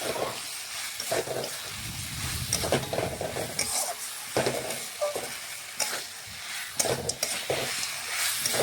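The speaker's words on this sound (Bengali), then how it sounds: "মটনটা দিয়ে দিয়েছি। এখন মশলার সাথে ভালোভাবে মিশিয়ে নিচ্ছি নাড়াচাড়া করে।" Mutton sizzling steadily in a hot pan while being stirred and mixed with spices, with scraping strokes and bursts of hissing rising and falling across the whole stretch; no voices.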